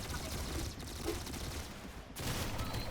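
Gunfire from a Roblox shooting game using an old-fashioned pistol, heard as a dense, continuous clatter of shots that fills the clip with one brief pause.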